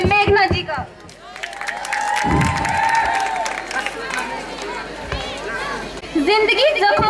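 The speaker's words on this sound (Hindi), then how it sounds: "जोरदार तालियों के साथ स्वागत कीजिए मेघना जी का" A crowd applauds and cheers to welcome a performer, Meghna, on stage at a college fresher party in Chamba, with loud, dense clapping and chatter that swells and continues for several seconds, plus a voice over the top.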